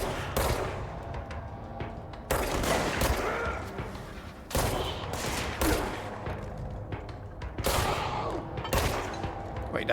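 Rapid bursts of video game gunfire in Control fired while aiming for headshots, loud sustained volleys in several waves with brief lulls between them and no talking.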